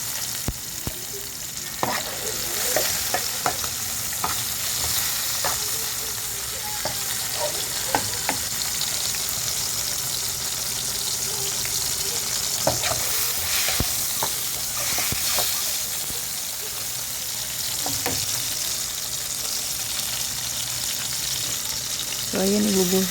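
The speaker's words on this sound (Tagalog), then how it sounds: "Huwag masyadong i-overcook yung paggagisa ng sibuyas. Ilagay na rin agad natin ang ating toyo, ang mixture." Onions sautéing with a soy sauce mixture in a pan for bangus steak, a loud continuous sizzle and hiss with frequent scraping stirs and utensil taps throughout.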